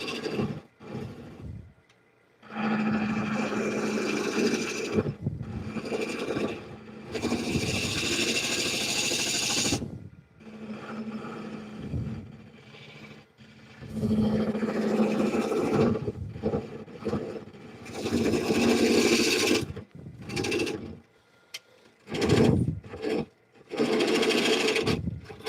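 A wood scraper cuts a bowl spinning on a lathe, giving a loud, steady rasping whine in long bursts of several seconds that are broken by short pauses and quieter gaps.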